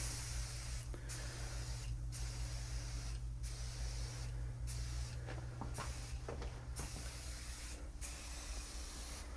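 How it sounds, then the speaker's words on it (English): Bedlam bed bug insecticide aerosol sprayed in a steady continuous hiss with a few brief pauses and clicks, close and fairly quiet, without any talking. "Once you spray this product,"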